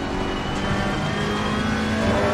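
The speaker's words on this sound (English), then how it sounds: "I'm trying to listen to the car and the revs." Loud, continuous engine roar of a racing car holding high revs in the video game Assetto Corsa Competizione on PS5, dense and steady throughout with no voices.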